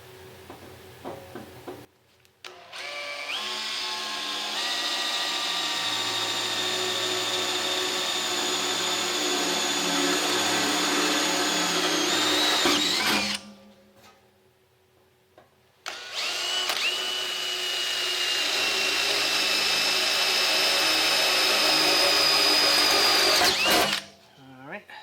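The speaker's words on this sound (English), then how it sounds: "we'll see if this drill bit will be adequate to drill this hole." A power drill bores holes in metal for a Motorola 6m repeater build, two long high whining runs of about ten seconds each with a brief quiet gap between, loud and close.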